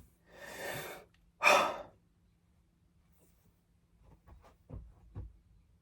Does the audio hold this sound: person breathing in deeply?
yes